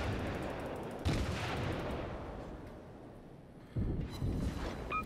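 Naval cannon fire from warships in World of Warships, heavy booming salvos with a big blast near one second and another near four, over a dense rumbling battle din.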